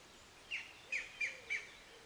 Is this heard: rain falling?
no